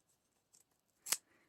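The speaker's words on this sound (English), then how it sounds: "The paper is ripping, but not the tape." A short, sharp rip of watercolor journal paper being torn free from sturdy tape, heard alone and close after a faint earlier rustle.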